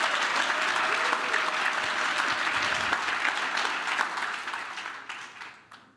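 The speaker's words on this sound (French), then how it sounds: "on peut donner une bonne acclamation au Seigneur." A church congregation applauds during a French-language sermon, a dense sustained round of clapping that holds steady and then fades out toward the end.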